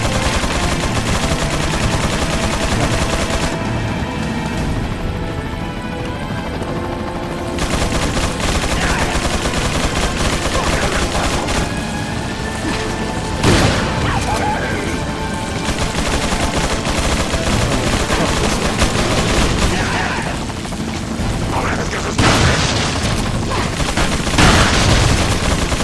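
Sustained gunfire from Resident Evil 4 played on Professional mode, loud and close, with rapid bursts and repeated shots layered over game music and ambience for the whole stretch.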